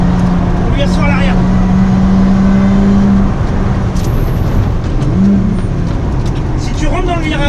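Lotus Exige V6 on a race track during a trackday, its engine droning loud and steady close by as it accelerates, with a tone that rises and settles, under continuous wind and road roar; a voice speaks over it.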